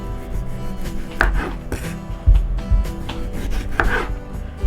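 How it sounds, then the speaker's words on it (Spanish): A knife chops a tomato into cubes on a cutting board, with repeated close thuds and scraping strokes in an irregular, steady working rhythm. No one speaks. "vamos a empezar picando el tomate"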